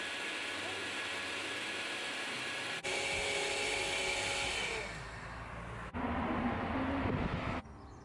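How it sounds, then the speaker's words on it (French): A blender grinding cork for homemade sprayed insulation gives a loud, harsh motor whine that shifts in pitch as it works, with a couple of abrupt changes in load. "liège au blender."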